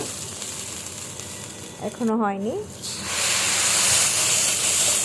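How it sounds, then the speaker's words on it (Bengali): Rice fries in a pot for plain polao with a continuous close sizzle and hiss that swells louder toward the end, while a voice briefly speaks over it. "এই তো ভাজা ভাজা হচ্ছে, ভাজা ভাজার জন্য ওয়েট করতেছি"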